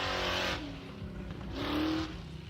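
A Ford Fox body car revs at a drift pit, its engine rising and falling in two loud surges, heard alone with no talk.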